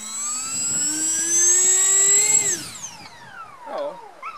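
A model jet aircraft's turbine engine whines at a steady high pitch that rises slightly, then spools down with a falling tone after about two and a half seconds, close and fairly loud.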